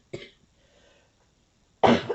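Two sharp coughs from one person, close to the mic inside a car; a short first cough, then a near-silent gap, then a louder, harsher second cough.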